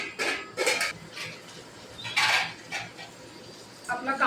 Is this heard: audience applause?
no